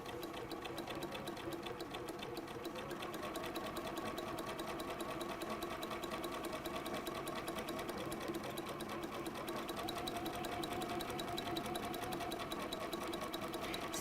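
Sewing machine fitted with a walking foot stitching steadily, a continuous loud mechanical whir with rapid rhythmic needle ticking, close up and alone for the whole stretch.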